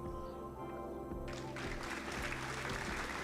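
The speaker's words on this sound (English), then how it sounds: "I'm clapping for you." Hand clapping by one person rises in after a short pause and continues as a steady, close patter over sustained background music tones, with no speech over it.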